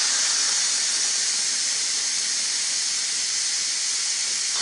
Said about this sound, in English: you don't have to get your finger next to the steam. And this is just doing this because of all the pasta water